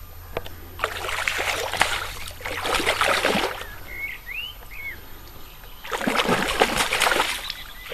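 A slim common carp splashes and thrashes in water as it is drawn into a landing net, giving three loud bursts of splashing with brief quieter gaps, while a bird chirps faintly between them.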